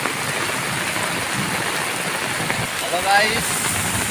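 A downpour of heavy rain roars in a constant broadband wash, close and loud, with a brief high chirp rising over it near the end and no talking.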